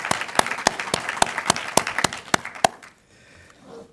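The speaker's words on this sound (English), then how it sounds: "let's give a round of applause to Master Sergeant Anderson for her fantastic work" Audience applause at a military change of command ceremony, a steady run of sharp, evenly spaced claps from a crowd that dies away after about three seconds, leaving faint room noise.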